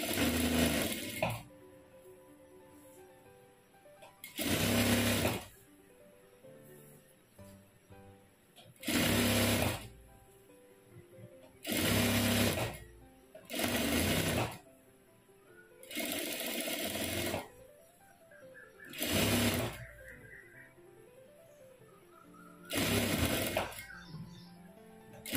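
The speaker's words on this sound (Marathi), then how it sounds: "तर आता आपण पाव इंचावरती बाहीला शिलाई देऊन घेऊ" Sewing machine running a quarter-inch stitch along a blouse sleeve, in repeated short bursts of steady whirring separated by pauses, fairly close and loud over quiet background.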